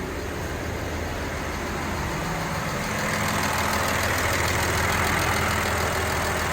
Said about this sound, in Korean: 본네트가 열려있는 상태에서 에어컨 대응 팬이 작동하고 있습니다.